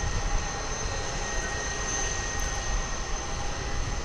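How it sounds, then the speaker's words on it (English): An American Airlines Boeing 787-9 Dreamliner arriving at DFW Airport, a steady broadband jet roar holding loud and even throughout, with no voices. "This one's going to be American Airlines Flight 116 arriving from Maui in Hawaii, 787-900 or 787-9 Dreamliner."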